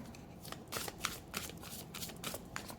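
Tarot cards shuffled by hand in a steady run of soft riffling bursts, quiet and close, with no talking.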